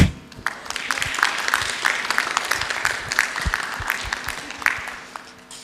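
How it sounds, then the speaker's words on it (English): A workshop audience at the EuroDIG 2019 conference gives a warm round of applause for a co-moderator's birthday, steady scattered clapping that swells and then fades toward the end. "give like a warm round of applause to my co-moderator who has her birthday today"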